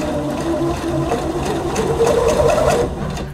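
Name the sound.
sewing machine sewing silk organza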